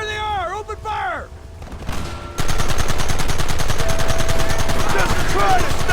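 Gunfire erupts in the video game Red Dead Redemption, a loud, rapid rattle of shots in a dense, steady barrage after a brief shouted voice and a quieter lead-in.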